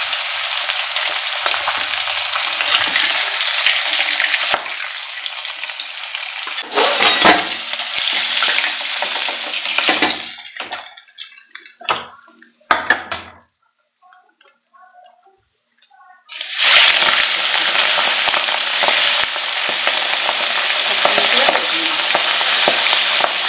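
Hilsa fish frying in oil sizzles loudly and steadily, then the noise breaks up into scattered crackles, drops to near silence for a few seconds, and returns as a strong sizzle.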